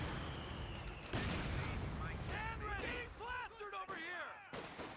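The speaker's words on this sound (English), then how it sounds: "that rifle squad's getting suppressed and getting hit by multiple squads" Gunfire hitting a rifle squad in the Company of Heroes 2 video game: dense crackling shots and explosive booms roll on continuously, with a voice talking over the battle.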